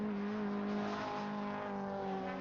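A Volkswagen Corrado race car on a circuit, heading toward a right-hand bend after a chicane, engine holding a steady high-pitched tone at moderate distance with a slight rise and fall as it passes.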